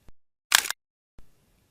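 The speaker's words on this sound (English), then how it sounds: "Let's look at 2 shutter speeds in real time." A single-lens reflex camera shutter fires at 1/30th of a second, a quick sharp mechanical clack heard close and alone, bracketed by faint softer clicks before and after.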